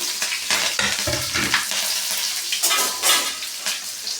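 Cumin seeds, garlic and green chili fry in a hot pan, giving a crackling sizzle broken by scraping stirs and light clinks of a spoon against metal, close and fairly soft with no voices.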